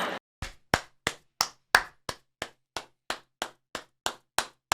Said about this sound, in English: Just to be clear, I'm not clapping because I agree with her